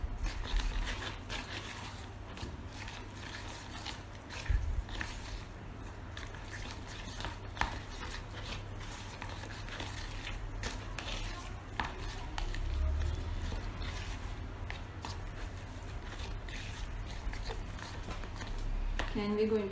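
Crunchy homemade slime packed with thermocol balls is squished and kneaded by hand, making a dense, continuous crackling and popping close up, with a voice talking over it.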